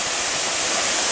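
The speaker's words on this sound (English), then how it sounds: "And this waterfall is so beautiful." Tad Gneuang waterfall near Pakse in southern Laos pours in a steady, dense roar of falling water, close and continuous with no break for the whole moment, and no voices over it.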